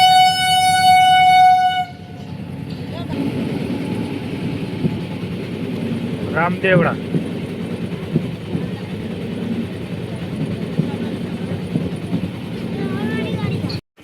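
A train arrives at Ramdevra railway station near Runicha, Rajasthan, sounding a loud, sustained horn blast for about two seconds. After the horn comes a steady rolling rumble of the train, with people talking nearby.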